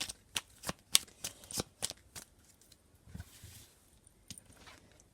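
Tarot cards are shuffled close by in a run of crisp riffling bursts at an uneven rhythm. The bursts thin out into a few softer shuffles, with no talk.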